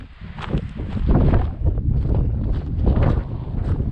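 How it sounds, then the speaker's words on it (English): Steady wind buffets the microphone in gusts on the Iron Mountain trail near Manitou Springs, Colorado, a low rushing roar rising and falling throughout with no voices. "It's also usually pretty windy up here, so it's nice and cool."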